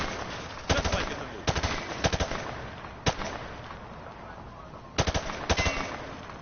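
Machine gun fire from a movie scene played back: several short bursts of rapid shots spread across the clip, sharp and fairly loud over a steady hiss-filled background.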